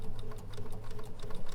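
Sewing machine doing ruler-guided free-motion quilting, a rapid steady mechanical stitching rattle heard close and alone.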